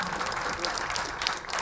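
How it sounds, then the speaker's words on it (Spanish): Audience applause follows a song at a live concert, a steady dense spread of clapping at moderate level throughout, with some voices mixed in. "Aplausos para ustedes"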